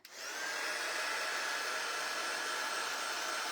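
A hair dryer blows steadily and close by, drying an air-dry clay Valentine sign, its airy whine switching on and holding an even roar for a few seconds.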